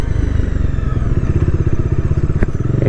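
A Bajaj Dominar 400 motorcycle engine thrums loudly and steadily up close while riding, a rapid low pulsing beat with a brief sharp clack near the end.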